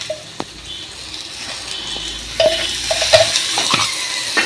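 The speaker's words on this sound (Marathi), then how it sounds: "2 टमाटे पण भाजून घेते त्याच्यात टाकायला." Tomatoes roast in a pan for chutney, giving a soft, quiet sizzle with a few light scrapes and clicks, growing slightly louder in the second half.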